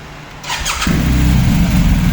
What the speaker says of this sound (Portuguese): ela tem um barulhinho que fica no cabeçote esquerdo por conta da corrente de comando